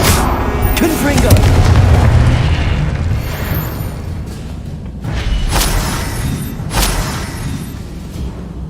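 Blasting-spell explosions in the fantasy video game Hogwarts Legacy: a loud, deep booming blast opens, then further sharp bursts and crackles follow in the middle and near the end, with a spoken voice at points.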